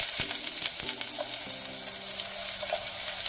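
Chopped onions frying and sizzling in a hot pan, a steady crackling hiss with a few clunks of the pan or utensil, close and without talk.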